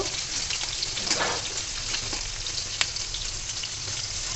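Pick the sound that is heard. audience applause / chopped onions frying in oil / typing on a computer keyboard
chopped onions frying in oil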